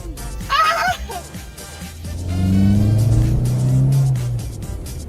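Several cars in a video game drive and rev on a crowded road, a rising engine drone that swells and holds loud through the second half, with a brief high whine and clatter early on.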